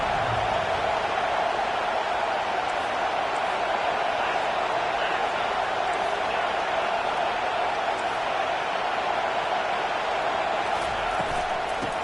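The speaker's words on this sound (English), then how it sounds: "Decibels rising as the crowd gets behind this defense on 3rd down." Stadium crowd noise from a college football video game swells steadily as fans rally behind the defense on third down, a dense continuous roar under commentary.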